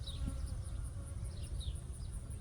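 Honeybees at a hive during a varroa mite check, a steady close buzzing drone with high whining wingbeats passing near, continuous throughout.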